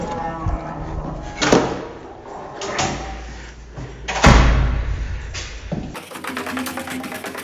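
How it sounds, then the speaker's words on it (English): An exit stairway door in a Rochester skyway building swings open with a couple of dull thumps and a clunk of the latch, set against a steady indoor hum at close range. "So here's that door I was talking about. You can just come through."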